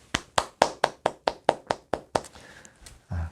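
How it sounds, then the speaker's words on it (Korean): Church congregation clapping at the close of a Bible study lecture, about ten crisp, evenly spaced claps in a quick rhythm that then stops abruptly. "1강부터 12강까지 인도해 주신 하나님께 감사와 영광의 박수."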